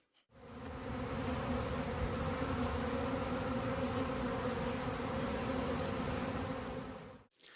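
Honey bees swarm around their hives in a dense, continuous buzz, loud and close, holding steady for several seconds before cutting off abruptly.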